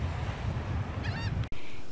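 Rough ocean surf and wind roar continuously up close on Amelia Island, with a brief honking bird call partway through and a sudden microphone dropout near the end.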